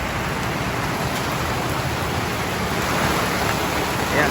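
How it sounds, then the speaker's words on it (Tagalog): Heavy rain pours down steadily in the aftermath of Typhoon Carina, a dense, constant hiss of close, loud downpour with no break. "Lakas na po yung ulan."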